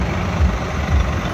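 Tractors arriving in a convoy at a village welcome, a dense low diesel rumble with rhythmic throbbing pulses, loud and close, no voices over it.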